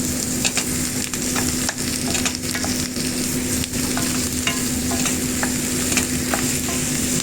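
Beef pieces sizzle and fry steadily in a hot pan, a continuous close crackle with occasional stirring scrapes and no talk over it.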